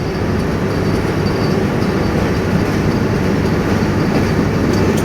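Train pulling out of Parbatipur station in Bangladesh, heard from on board: a loud, steady rumble of wheels and carriage with a constant broadband roar and no pauses.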